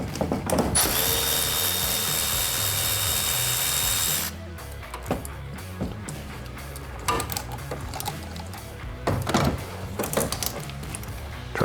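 A ratchet with an extension and a 10mm wobble socket works a valve cover bolt on an FL5 Honda Civic Type R, giving close mechanical clicking and grinding, loud at first and then in short uneven bursts.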